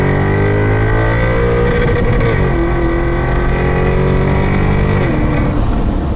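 A Maserati GranTurismo Sport engine revs loud and close, a steady, richly harmonic roar whose pitch dips and climbs as the revs change, with no talk over it.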